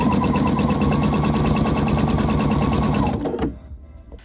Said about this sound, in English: I'm just going to use my long stitch length and stitch around the outside circumference of my tree skirt